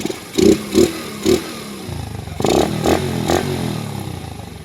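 A motorcycle engine with a freshly replaced connecting rod and new timing chain and chain guide idles close by, with a few sharp revs early and then a steadier blipping rhythm, loud and clear.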